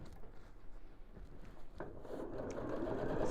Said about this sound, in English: So let's sew down the sides first of all.